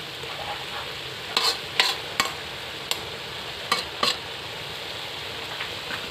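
Thai holy basil stir-fry (pad kaphrao) sizzles steadily in a pan while a utensil scrapes and clacks against the metal in a few sharp, scattered strikes.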